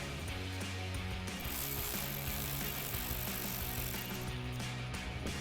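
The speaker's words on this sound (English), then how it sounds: "we're going to take our ratchet with our 8mm socket and loosen that up" A ratchet fitted with an 8mm socket clicks steadily while loosening the turbo-side clamp on a Jeep Wrangler JL intercooler pipe, a close, continuous mechanical pawl chatter with no talking.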